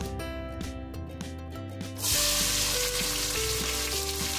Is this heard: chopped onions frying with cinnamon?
yes